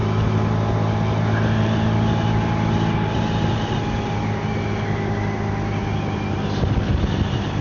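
A small 125cc motorbike cruising along an Isle of Skye road, its engine drone steady and loud with strong wind rush, holding an even note throughout with no talking.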